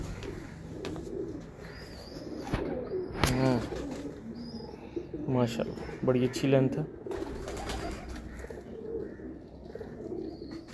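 Breeder's pigeons coo and flutter nearby, soft throaty calls and brief wing flaps mixed with faint chirps, while someone talks over them.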